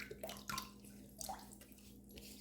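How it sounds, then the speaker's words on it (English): Water splashed onto the face before a shave with a semi-slant safety razor, a few soft wet splashes and drips spread irregularly over a couple of seconds, close but quiet, with no talking. "Let's get a little hydration on the face"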